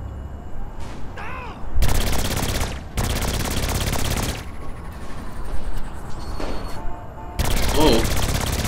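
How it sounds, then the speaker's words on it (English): Alien SMG firing in the video game Saints Row IV, loud sustained bursts of rapid gunfire separated by short pauses, with game sounds and occasional voices between volleys. "Let's try this alien SMG."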